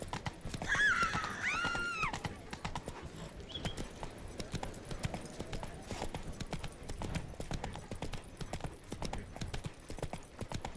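Roach, Geralt's horse in Witcher 3, gallops in a steady rapid clip-clop of hooves close by throughout, with a whinny near the start.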